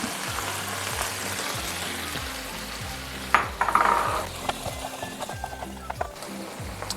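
Peas stir-fried with tomato sauce and sugar in a pan for Chinese fu yung hai, a steady close sizzle with a low repeating hum beneath and a few utensil scrapes and clinks partway through.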